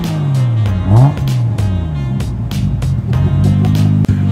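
A Nissan R32 GT-R engine heard from behind the car, revving and burbling loudly up close in rhythmic pulses, with rising and falling pitch and crackling exhaust pops.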